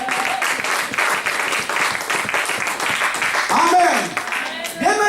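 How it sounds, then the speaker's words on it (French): A church congregation applauds and cheers loudly, with steady dense clapping throughout, voices shouting and whooping on top, and a rising cheer near the end. "Est-ce que tu peux vraiment acclamer déjà très fort pour la gloire de Dieu?"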